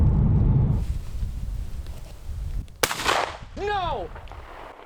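A gunshot cracks sharply from a hunting video played back on a device, followed by brief noise and a rising, wavering vocal cry, over windy background.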